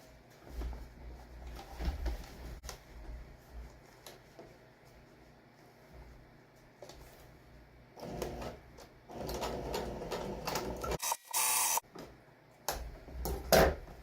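A sewing machine stitches across the bottom edge of a fabric home-decor piece, running in uneven bursts of mechanical whirring with short pauses and handling noises between, moderately close and without talk.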